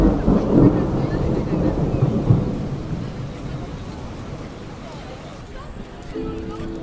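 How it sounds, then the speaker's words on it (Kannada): Rain pours down in a storm with deep rumbling thunder, loud at first and slowly fading, while voices speak over it. "ಮಳೆ ಬರ್ತೈತೆ"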